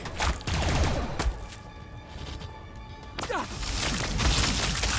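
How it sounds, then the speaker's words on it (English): Battle gunfire in Warhammer 40,000: Battlesector against Necrons, a chaotic fusillade of cracks and impacts mixed with crashes and game effects, loud and continuous, with a voice under it. "They're shooting back!"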